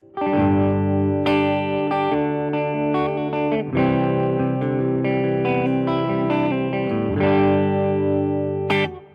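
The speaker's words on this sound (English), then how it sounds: "Now we'll set the EQ back to the middle position so we get a neutral sound." Electric guitar through a Rajani Amps VOD-50 solid-state amp, EQ set neutral, playing chords and single notes with a fairly full, balanced tone, sustained and ringing, with some effect shimmer, loud and close.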